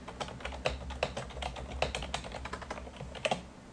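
Quick, uneven clicks of a computer keyboard as someone types, close and fairly quiet, with no voice over the keystrokes.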